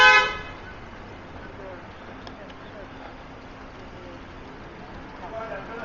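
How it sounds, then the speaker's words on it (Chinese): A car horn gives one short, loud honk at the start, then fades into quiet road ambience at a village entrance checkpoint. "按喇叭。"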